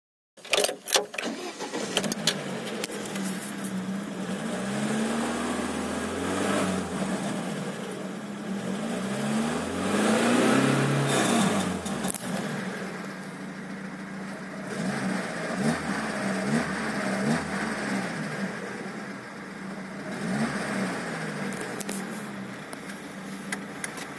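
An IZh-2126 Oda car engine starts up in a garage and settles into a low idle of roughly 700 to 800 rpm, with a steady, loud rumble that swells and dips slightly.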